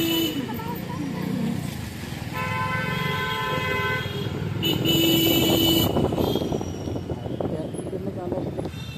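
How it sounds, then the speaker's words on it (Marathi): Busy road traffic near the Bhimthadi Jatra fair in India rumbles continuously while car horns toot several times, one longer honk standing out, with voices chattering underneath. "पण हे ट्रॅफिक बघू शकता किती आहे"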